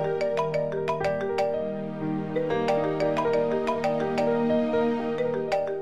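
A phone ringtone plays a bright, plinking electronic melody over a sustained tone, repeating steadily and clearly with no voices during the ring.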